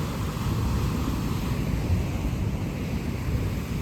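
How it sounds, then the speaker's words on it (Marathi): Sea waves roar and wash on a beach near Ratnagiri in a constant broad rush, loud and close, with wind buffeting the microphone throughout. "पाणी एवढं जोरात उडतंय ना, तेवढं पाणी जोरात उडालं होतं"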